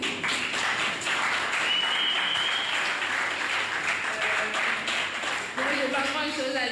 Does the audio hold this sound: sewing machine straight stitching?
no